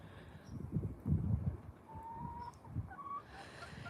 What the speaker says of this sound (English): these poor chickies, so they're coming around because they're kind of coming by the door